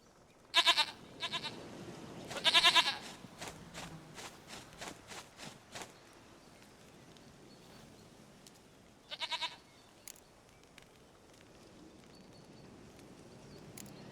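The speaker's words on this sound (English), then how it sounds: "Goat of mine, dearest," Goat in The Witcher 3 game bleating in several short bursts, two louder cries early and another a few seconds later, separated by quieter clicks and steps against a soft ambient background.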